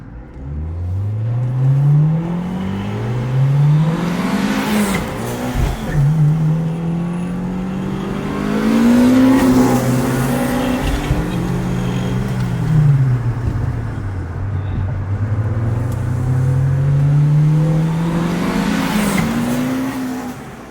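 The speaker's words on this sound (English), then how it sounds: "This is my new drift car. It's a 1999 Toyota Altezza" A 1999 Toyota Altezza drift car engine revs up and down repeatedly, loud and close, with rising and falling pitch sweeps and no talking.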